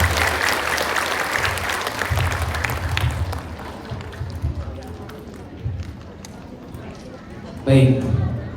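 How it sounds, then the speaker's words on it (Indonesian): An audience claps at a Buddhist anniversary gathering held in a shopping mall, a dense, moderately loud applause that fades gradually, with a voice speaking through it and a brief thump near the end. "Kita aplaus ya"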